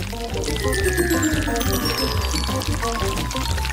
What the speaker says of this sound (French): Et maintenant, je prends la bouteille. Et je verse toute la pâte.